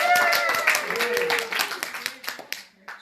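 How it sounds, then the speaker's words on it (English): An audience claps in applause at a talk or event, with a burst of hand clapping under a speaking voice that fades toward the end. "Give a round of applause for Larry."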